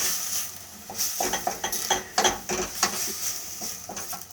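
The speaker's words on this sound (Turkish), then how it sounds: "Şimdi bunlar yumuşayıncaya kadar kavuralım şöyle 2-3 dakika." Mushrooms, onion and hot peppers sauté in a pan, with a soft sizzle under busy scraping and clattering as a utensil stirs against the metal.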